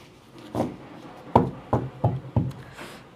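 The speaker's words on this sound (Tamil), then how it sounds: "பின்னாடி பில்டிங்கில் கன்ஸ்ட்ரக்ஷன் நடந்துகிட்ருக்கு, அதனால தான் டக் டக் டக் டக்குன்னு சவுண்டு வருது." Construction work in a building behind produces five dull knocks, one isolated and then four in an evenly spaced row, somewhat distant and moderately loud against a quiet room, with no talking.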